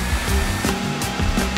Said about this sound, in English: And turn on the blow dryer